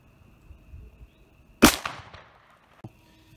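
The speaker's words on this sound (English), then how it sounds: "shooting 180 grain XDP 10 millimeter 6-inch Glock 40" A single 10mm 180-grain XDP round is fired from a 6-inch Glock 40 MOS into hardwood boards: one sharp, fairly close report with a short ringing tail and a faint knock afterward, in a quiet setting.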